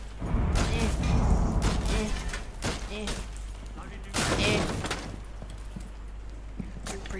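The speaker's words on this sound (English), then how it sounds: "Some fuse charges going off." Several loud blasts from fuse charges going off in Rainbow Six Siege, heavy thumps separated by short gaps, over a low background hum.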